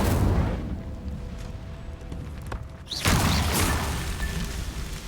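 A fire spell cast in Hogwarts Legacy, a loud burst at about three seconds rising over a steady rumbling game backdrop, then fading into a lingering whoosh.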